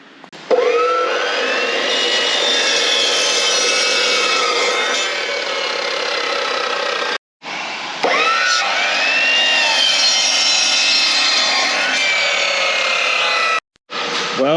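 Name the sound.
Milwaukee saw with toothed blade cutting steel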